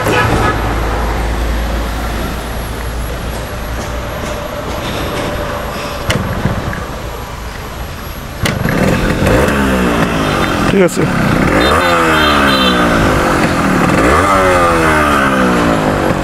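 A Yamaha RX-100 motorcycle idles loudly up close, then its two-stroke engine is revved repeatedly in rising and falling bursts, with a brief spoken phrase partway through.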